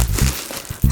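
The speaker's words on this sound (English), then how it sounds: "So I'll put that in a plastic bag" A plastic bag crinkles in a short, loud burst close by as a toothbrush is packed, rustling and crackling for under a second.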